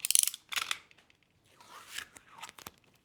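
Scissors cut a strap of pizza box cardboard for an easel, making a few close, crisp snipping and crunching cuts with short pauses between them.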